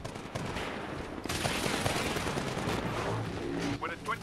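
Rapid automatic gunfire rattles in dense bursts during a Titanfall match, aimed at a giant Titan mech; loud and continuous game shooting with faint voices underneath.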